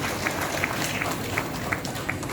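Dense, steady applause from an audience, many hands clapping evenly for the whole stretch with no pauses.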